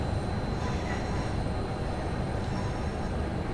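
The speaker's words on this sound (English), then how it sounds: "We're about to be the third Pendolino in there." Pendolino train pulling into London Euston on the West Coast Main Line in a simulator, a steady low rumble of rolling stock with a faint high whine, continuous and even throughout.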